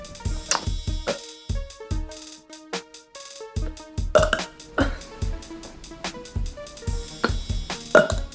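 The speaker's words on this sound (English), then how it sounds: "I don't know if I can burp super loud." A girl burping after a lightly fizzy drink, letting out a series of short, throaty belches spaced by brief pauses over several seconds.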